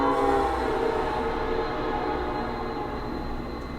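A passing train gives a continuous low rumble and rolling rail drone, fairly loud and steady throughout, slowly easing off slightly toward the end.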